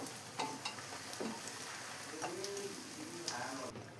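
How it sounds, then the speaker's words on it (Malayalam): Prawns frying in hot oil with curry leaves for a Kerala-style prawn biryani, giving a steady low sizzle with scattered crackles and stirring clinks, fairly quiet. "ഇപ്പോൾ എല്ലാം കൂടെ നന്നായി ഫ്രൈ ആയി വന്നിട്ടുണ്ട്."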